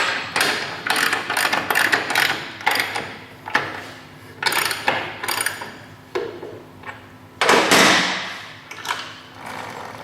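A motorcycle rear wheel with its chain spins on a stand, giving repeated ratcheting, clicking mechanical bursts and a few thuds in irregular spurts, close and fairly loud with no talking.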